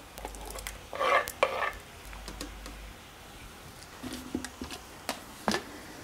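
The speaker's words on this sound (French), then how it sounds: "je mets tous mes légumes écrasés dans ma sauce" Mashed vegetables stirred into a cashew-nut sauce, a spoon giving soft scraping and light taps against the pot, quiet and intermittent.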